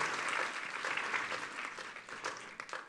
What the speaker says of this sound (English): Let's give one more round of applause for both of our wonderful teachers.